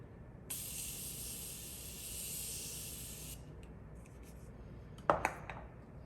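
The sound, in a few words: spraying Morphe Continuous Setting Mist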